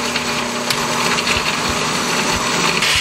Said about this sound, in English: now we put it in the blender.